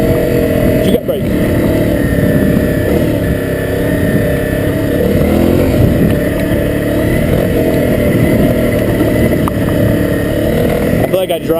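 A Honda CRF250L dirt bike runs hard on a mountain trail near Storm Mountain outside Fort Collins, Colorado, its engine droning loud and close with steady throttle and small rises, under constant wind and trail noise.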